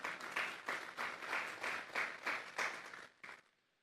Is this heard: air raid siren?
no